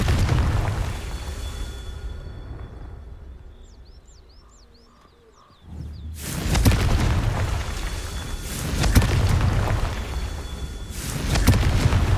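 A Confringo fire spell exploding in the Hogwarts Legacy video game: faint birdsong under a quiet stretch gives way to a sudden loud blast, followed by further heavy rumbling bursts.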